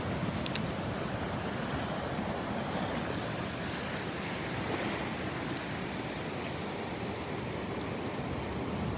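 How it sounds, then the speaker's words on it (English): Ocean surf rolls onto the beach at Delnor-Wiggins in a constant, loud, wash of breaking waves, with wind mixed in and no voices. "And loving the waves here, loving it, loving it, loving it."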